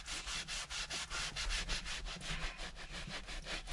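Leather goo is rubbed onto a Rover P4 leather car seat with quick, rhythmic back-and-forth strokes, a soft close scrubbing swish repeating steadily with no talk.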